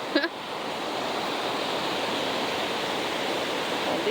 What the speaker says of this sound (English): Can you guys hear me over these falls?